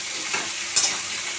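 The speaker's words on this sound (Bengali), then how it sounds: "সব সবজি দেওয়া হয়ে গেছে, একটু নাড়াচাড়া করে নেব।" Mixed vegetables for a Bengali Malabar spinach curry cooked with fish head are stirred in a hot wok, giving a soft, steady sizzle with a brief scrape of the spatula partway through.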